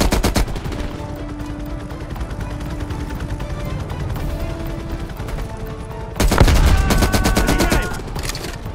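Sustained automatic fire from a light machine gun in the shooter Call of Duty: Black Ops Cold War, loud and continuous, with a denser, louder stretch near the end and no talking.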